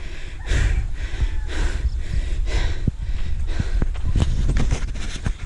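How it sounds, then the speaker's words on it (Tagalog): Heavy, ragged breathing and gasping from a person out of breath partway up a mountain trail in Capiz, close and continuous with snorting exhales, rustling and footsteps underneath. "Hingal na kaagad ako."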